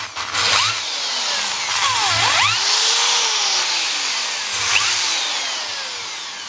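Abrasive 80-grit brush on a power drill finishing drilled holes in fat bike rims, a steady high whirring grind with rising and falling pitch sweeps, close and continuous, with brief lower bursts as the brush bites.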